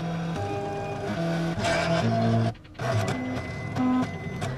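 A Silhouette cutting machine runs as it cuts printed photo stickers, giving a steady mechanical whir with shifting motor tones, stepping pitches and a brief pause midway.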